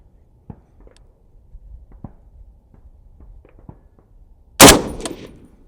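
A single loud FN SCAR 17 rifle shot cracks out near the end with a short ringing decay, preceded by scattered faint clicks and shuffling handling noises.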